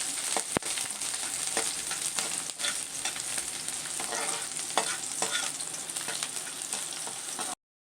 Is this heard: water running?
no